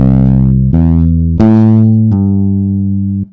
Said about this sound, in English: I have this bass sound that just sounds like this.